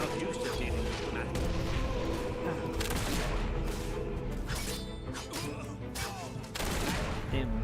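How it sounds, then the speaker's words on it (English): Mortar strikes explode across a Fable 3 battlefield amid dense, continuous gunfire-like crackle and bursts, loud and busy throughout with repeated sharp impacts. "Damn mortar strikes."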